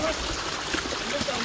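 Thin water flow from a low-volume waterfall on the Bhimashankar trek makes a steady, close rush, with people talking over it throughout.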